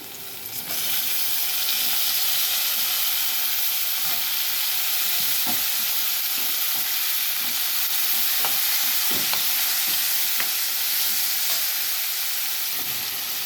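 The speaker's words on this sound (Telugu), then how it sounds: "ఇప్పుడు వంకాయ ముక్కలు బంగాళదుంప ముక్కలు కూడా వేసేసుకుందాం." Eggplant and small potato pieces with a little turmeric fry in a hot pan for a tomato curry, giving a loud, steady sizzle that runs throughout with faint stirring scrapes and no talking.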